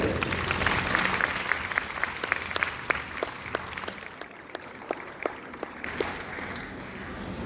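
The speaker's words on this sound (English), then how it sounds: "Once again, can we have a round of applause for Ira Mukhoty, Julia Quinn, and Rochana Ja" An audience applauds after a book talk, with dense sustained clapping from a crowd in a hall and a few sharper nearby claps standing out through the whole stretch.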